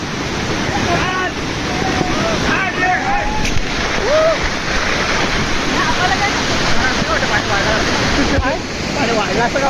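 Rushing water flows fast past a seated person outdoors, a loud, steady roar with wind buffeting the microphone, while someone talks over it.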